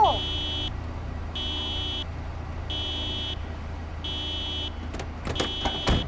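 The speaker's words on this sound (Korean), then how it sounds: "주인이 도난 경보를 해놓은 차구나" A car theft alarm in the video game Project Zomboid blares in four evenly spaced bursts with gaps between them, followed by a few sharp clicks and knocks near the end.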